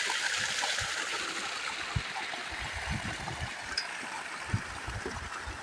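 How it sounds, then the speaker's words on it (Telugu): Irrigation water flows after being released, a soft continuous rush with small splashes and gurgles, heard faint and steady from a short distance with no talk. "నీళ్ళు అయితే వదులుకున్నాం"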